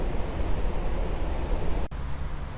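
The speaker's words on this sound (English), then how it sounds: "Very nice with the sound of the river behind you." Steady broadband rushing of a river flowing, fairly close and continuous, with a brief dip partway through.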